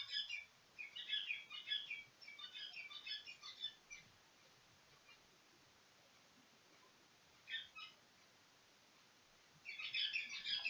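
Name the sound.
bird chirping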